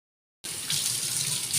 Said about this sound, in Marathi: भांडे असे पडू नये एवढे सगळे भांडे घासायचे आहेत.